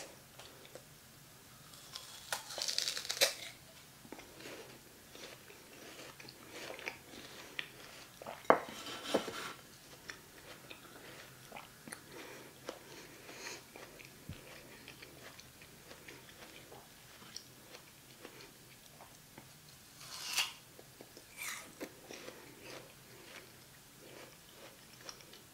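Someone bites into and chews a juicy pear at close range. Quiet wet crunches and chewing come in bursts, with a few louder bites and faint clinks of dishes in a hushed room.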